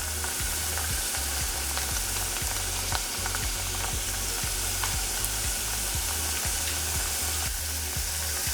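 Churro tots fry in hot oil with a steady, dense sizzle and crackle, while repeated soft scraping strokes mark them being stirred around the pot. No one speaks.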